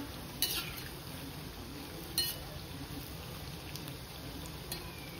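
A spoon stirs carrot bhajiya batter, giving a few faint clinks against the pot over a steady soft hiss, with no talking.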